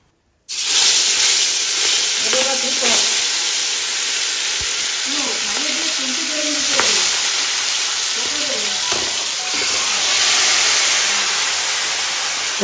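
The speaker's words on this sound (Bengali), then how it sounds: "মাছগুলো সুন্দর করে মশলা মাখিয়ে নিয়েছি, এখন মাছগুলো তেলে ছেড়ে দেবো।" Spice-marinated river air fish frying in hot oil in a wok, giving a steady loud hiss and sizzle throughout, with people talking over it now and then.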